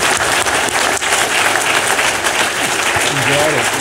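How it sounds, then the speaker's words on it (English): A crowd applauds the speakers at the close of a debate on eschatology, dense and loud clapping filling the whole stretch without pause. "Let's give our speakers a round of applause."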